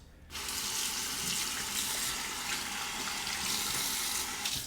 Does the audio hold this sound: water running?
yes